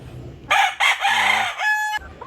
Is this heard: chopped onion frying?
no